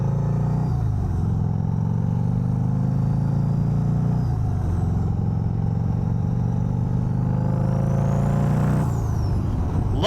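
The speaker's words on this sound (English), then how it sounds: "Love the sound of that Turbski on here." A turbocharged motorcycle engine drones loudly and steadily while riding, rising and easing through several shifts in engine speed, with a faint whistle near the end.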